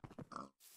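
A pig in a video game gives a brief series of snorting grunts, close and clear, under a second long.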